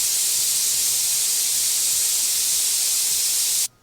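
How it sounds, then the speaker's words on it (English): A siphon feed airbrush sprays cleaner in a continuous loud, even hiss that stops abruptly near the end. "now I'll show you the spray pattern with the siphon feed"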